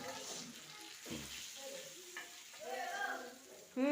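Pieces of tilapia fry in a pan with a steady, quiet sizzle and occasional stirring scrapes while people chat softly nearby.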